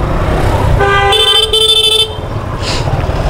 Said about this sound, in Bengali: বাইকের কিন্তু যে হর্নটা কিন্তু চমৎকার একটা হর্ন